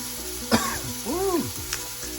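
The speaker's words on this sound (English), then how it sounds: "Seared it first, and then" A pot roast searing in an Instant Pot makes a close, continuous sizzle, broken by a short cough and a throat clearing partway through.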